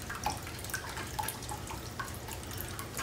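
Room temperature water trickles and drips into a container for feeding turtle hatchlings, a faint steady pour with small splashy droplets repeating close by, no voices.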